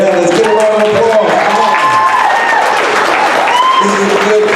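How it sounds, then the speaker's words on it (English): An audience at a ministry event about the addiction epidemic breaks into sustained clapping and some cheering, filling the room continuously with a few voices and tones rising over it. "let's get a round of applause"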